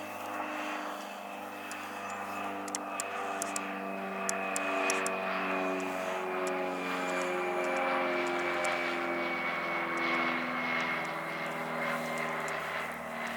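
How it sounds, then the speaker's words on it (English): A small microlight aircraft drones steadily overhead in Wales, its engine a continuous buzzing hum with wavering pitch lasting throughout, fairly distant outdoors with no talk. "An aeroplane, oh, a little microlight look."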